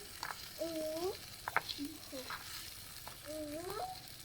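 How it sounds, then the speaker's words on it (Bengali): Vegetables sautéing in a pan for a large vegetarian feast give a steady close sizzle and stirring, with a few brief whistle-like tones rising over it. "এই তো আমার এখানে সবজিগুলো কষিয়ে নিচ্ছি।"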